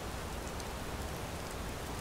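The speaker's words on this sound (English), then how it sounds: "And now it's raining." Steady rain pours down in a dense, even hiss with no other sounds rising above it, in the video game Skyrim.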